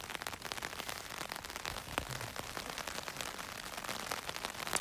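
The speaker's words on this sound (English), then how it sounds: "And the sound of the rain on the top" Steady rain patters on a taut hammock tarp overhead while camping, a dense hiss of drops with scattered louder taps, continuous and close.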